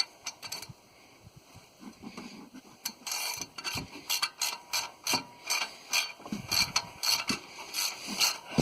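A long socket ratchets a spark plug into a 1991 Chevy 1500 5.7 V8, a series of quiet, close clicking ratchet strokes in quick bursts with some rubbing of the tool.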